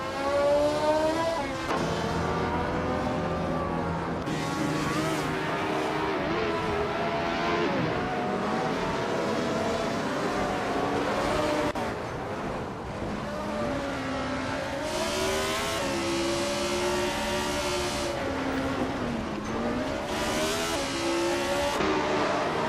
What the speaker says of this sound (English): Hope you're ready for some exciting AI car races today.